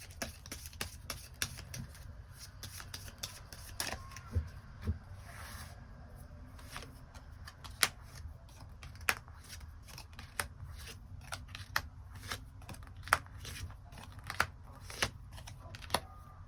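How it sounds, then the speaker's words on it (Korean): Tarot cards being shuffled and drawn, a long series of sharp close snaps and brisk sliding rustles at irregular intervals over a low background rumble, with no speech. "카드 뽑아보도록 하겠습니다."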